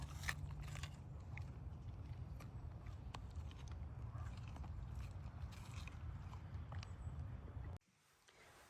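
A dog crunching and chewing a treat indoors, steady close crackly biting and mastication that continues for several seconds before stopping abruptly.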